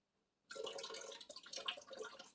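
Boiled potato water poured from a pot into a sink: a sudden splashing gush that begins abruptly and runs steadily, close and fairly loud, with no voices.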